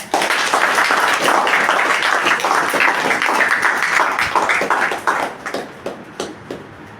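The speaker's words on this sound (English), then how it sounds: "At least a big round of applause." An audience applauds at the close of a college session, dense loud clapping that holds steady for about five seconds, then thins into scattered individual claps and fades.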